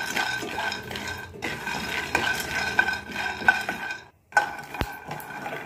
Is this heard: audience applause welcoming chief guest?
no